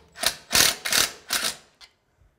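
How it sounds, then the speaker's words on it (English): A screwdriver drives number 6 3/8 screws through metal into metal during a slider installation, making a few short, gritty whirring bursts close by, with a brief final click. "we attach our metal to metal with our number 6 3/8 screws"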